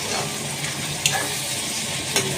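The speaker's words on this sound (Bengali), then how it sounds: "তেলের মধ্যে শুকনো লঙ্কা, তেজপাতা, গোটা জিরে সব ফোড়ন দিয়ে নিয়েছি" Dried chilli, bay leaf and whole cumin sizzle in hot oil as a tempering for chicken kosha, an even, close, hissing fry with two light metallic taps from a utensil.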